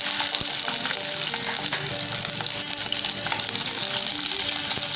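Garlic frying in oil in a pan for squid thokku, a dense steady sizzle with occasional stirring scrapes and pops, close and continuous with no talking.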